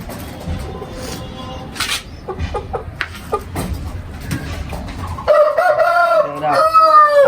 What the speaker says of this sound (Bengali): ইগো ফুল অ্যাডাল্ট মুরগা ডাক পারে